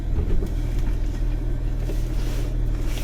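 A 4x4 Quartermaster grinds through deep creek mud under heavy winch load, its engine and drivetrain giving a loud, steady, low rumble throughout.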